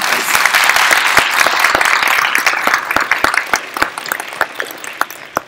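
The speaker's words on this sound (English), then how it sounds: "So if you guys will join me in giving them a round of applause." Audience applause for a live panel discussion on women in automotive, strong and dense at first, then breaking into sparser individual claps as it fades out.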